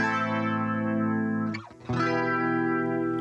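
A sustained, heavily effected guitar tone looped in Ableton Live drones with rich, steady harmonics and a distorted edge, briefly dipping and warbling before the loop restarts at full level.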